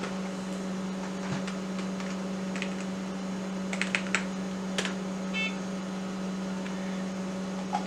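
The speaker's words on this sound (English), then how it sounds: "And I'll type in my password." Password typed on a computer keyboard beside an old Pentium III Gateway server, a run of light, irregular key clicks close by over a steady machine hum.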